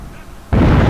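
Explosion in Hitman Absolution, a sudden loud burst halfway through that stays dense and roaring to the end, preceded by quieter game ambience.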